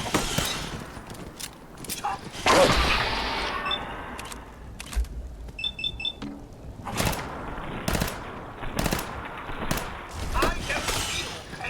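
Gunfire in Fallout 4, scattered single shots and short bursts with a heavier volley early on and sharp metallic clicks between, under occasional background noise.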